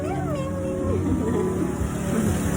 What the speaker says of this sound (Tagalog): May pusa dito, guys.